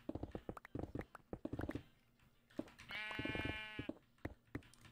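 A sheep bleats once, a clear wavering cry of about a second, set between soft knocking and clopping sounds that fill the rest of the quiet clip.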